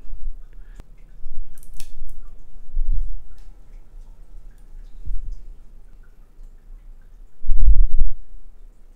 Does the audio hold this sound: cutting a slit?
yes